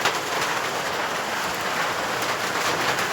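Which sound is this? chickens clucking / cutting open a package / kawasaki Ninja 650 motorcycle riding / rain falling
rain falling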